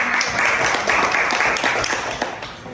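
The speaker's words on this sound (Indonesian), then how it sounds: "Tepuk tangan dulu buat" Classroom audience clapping after a group presentation, a short burst of many hands that thins out toward the end.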